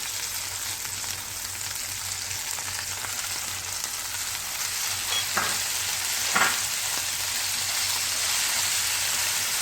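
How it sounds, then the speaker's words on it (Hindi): Chicken pieces fry with garlic in a hot pan, giving a steady, dense sizzle with a couple of brief stirring scrapes partway through, with no talking. "चिकन को आपने 4 से 5 मिनट तक इसमें फ्राई कर लेना।"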